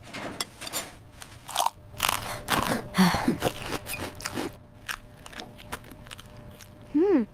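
Someone bites and chews a sandwich at breakfast, close crisp crunches in an irregular series with quieter chewing between them and a short vocal sound at the end.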